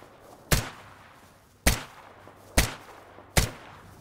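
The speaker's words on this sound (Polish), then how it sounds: "Coś mi nie idzie dzisiaj to strzelanie." Four sharp, loud single gunshots in STALKER GAMMA (Anomaly) ring out one at a time, each about a second apart, over a quiet background hum.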